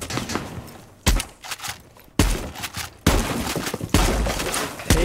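Gunfire in Rainbow Six Siege, a series of loud sharp shots and bursts at irregular intervals, each with a crashing tail, close and dominant.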